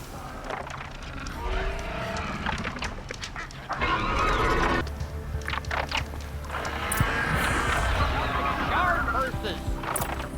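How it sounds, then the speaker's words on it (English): Horses whinny and snort in a busy Horizon Zero Dawn game scene, with voices talking over them and steady background ambience throughout. "Guard horses!"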